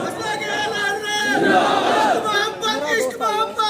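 Crowd at an Urs religious gathering shouting slogans back in unison in response to a leader's call, loud massed voices rising and falling together in chanted bursts, with the leader's amplified voice among them.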